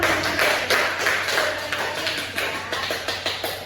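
A classroom of students clapping after a group geography presentation: scattered, fairly close claps that start dense, then thin into irregular, fading taps.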